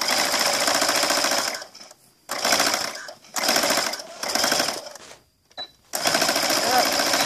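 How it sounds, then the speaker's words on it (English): Sewing machine stitching straight across the neck band of a Christmas apron, running in four loud bursts with short pauses between them, the last burst starting after a brief quiet gap. "and then I'm sewing straight across"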